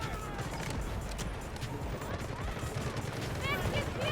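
Dense gunfire from the Delta Force video game, a steady stream of shots and impacts under a busy, noisy mix with brief voice chatter.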